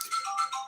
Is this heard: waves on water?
no